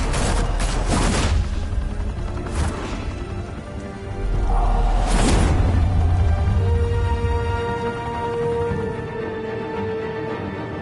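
Rapid automatic gunfire crackles and booms through a shootout in a Batman cartoon set in Gotham, dense bursts with sharp blasts, a brief lull, then another heavy volley trailing off into ringing tones.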